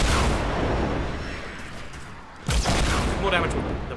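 Opponent's gunfire in Fortnite, heavy booming shots and impacts arriving in a loud cluster, fading briefly and then hitting again sharply, with a voice talking over it.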